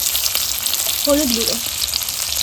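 Potatoes fry in hot oil with a loud, continuous close sizzle, and a voice speaks briefly over it.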